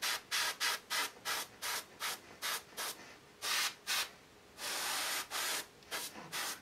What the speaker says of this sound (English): I'm spraying a little heavy